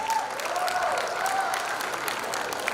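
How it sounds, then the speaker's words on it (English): An audience at a school's annual prize day in Jeddah applauds a teacher being honoured, steady clapping spread evenly across the hall with a faint tone and some voices under it. "A truly deserving round of applause."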